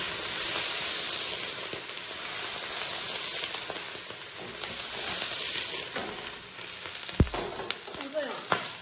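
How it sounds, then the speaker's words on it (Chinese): A drop of water hitting a hot pan lightly greased with oil before pancake batter is poured, heard as a steady hiss and sizzle throughout with a few small pops near the end. "然后再加上1滴的清水，"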